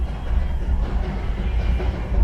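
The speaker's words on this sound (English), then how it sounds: "we have a train passing by" A passing train makes a steady low rumble with a faint rattling rolling noise throughout, fairly distant and continuous, with no voices.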